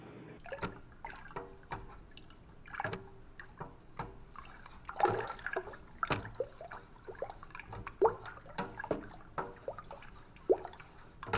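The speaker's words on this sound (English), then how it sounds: "We're gonna stir this honey around in here." Honey being stirred into water for a two-gallon batch of mead, giving soft, irregular wet swishes and drips in a quiet room, with no talking.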